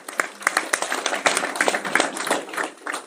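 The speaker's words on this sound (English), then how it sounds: "Yes, give them a round of applause." Live audience applause at a wealth-building seminar, a dense spread of hand claps with sharp individual claps standing out, steady and fairly loud for a few seconds.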